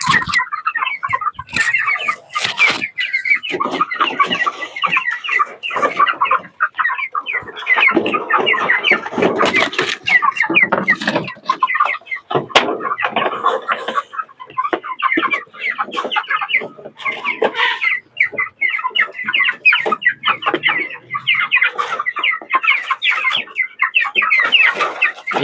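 Chickens raised on a low-cost feed of madre de agua leaves cluck steadily and close by, many birds overlapping in dense chatter for the whole stretch, with the odd rooster call mixed in.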